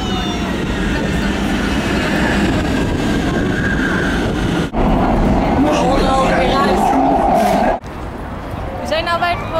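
A Warsaw metro train rumbles loudly while riding, with a steady roar, a couple of abrupt shifts in tone and rising whine near the end, as people talk over it.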